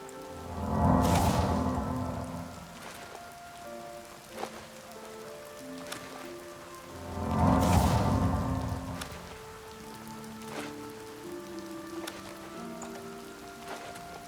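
Steady rain falls and patters on surfaces in Oblivion Remastered, with two swelling gusts of heavier downpour over a continuous wash, alongside soft musical tones.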